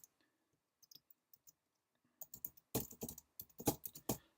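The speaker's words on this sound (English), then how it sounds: "type in your email address." Typing on a computer keyboard, a few scattered quiet taps at first, then a quicker run of crisp, close key clicks, with no voices.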